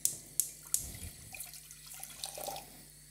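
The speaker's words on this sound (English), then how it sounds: "And then I'm going to pour some hot water in and get that boiling." Hot water is poured into a pan, with three sharp clicks at the start, then a soft, uneven splashing and trickling that stays fairly quiet and close.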